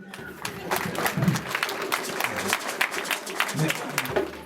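A crowd applauds steadily at a gala in Montreal with a dense patter of clapping hands, fairly distant, while faint voices murmur underneath.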